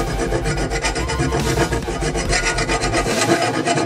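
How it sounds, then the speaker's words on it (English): A hand file rasps steadily along the edge of a scrap steel sword blade, fast even strokes, close and continuous with no talking. "go ahead and get yourself out a file and just start getting to work"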